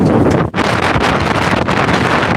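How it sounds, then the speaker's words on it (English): Strong wind blowing outdoors, buffeting the microphone in a loud, continuous roar with a brief dip near the start and no talking. "Gotta pull my hat down, it's getting windy."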